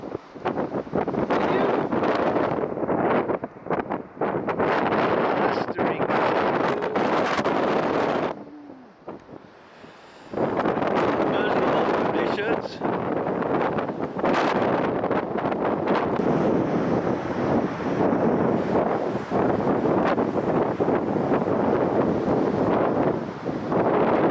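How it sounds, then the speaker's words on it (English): Strong gale-force wind, around 60 knots, at a surf beach roars and buffets the microphone almost nonstop, with a brief lull before the gusts surge back, loud and rough. "Windy as hell."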